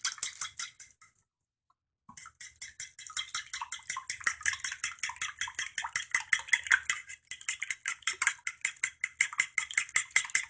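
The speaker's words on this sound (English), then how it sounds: "Just give it a nice little stir" Eggs and a can of evaporated milk stirred in a bowl, a utensil clinking against the sides in quick, steady taps that pause briefly near the start, then keep an even rhythm close by.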